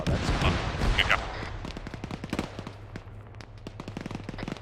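Scattered distant gunfire in the military game ArmA 3 pops in irregular volleys and single cracks, some shots close together, while voices talk over radio chatter near the start.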